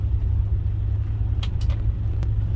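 Steady low engine drone and road rumble from a 1975 Lincoln Continental Town Car while driving, a continuous cabin hum with a few faint higher clicks, no talk.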